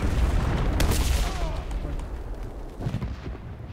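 Explosions and artillery-like blasts in the WWII shooter Enlisted, with a Panzer IV E tank in the fight, come as loud booming bursts near the start, then rumbling battle noise continues underneath.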